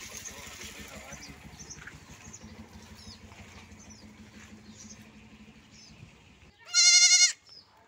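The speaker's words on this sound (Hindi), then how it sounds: "बड़ी एक्टिव बकरी है भाई।" A young female desi goat, about a month old, lets out one loud, sharp bleat near the end, after a stretch of quieter background noise and indistinct talk in Hyderabad.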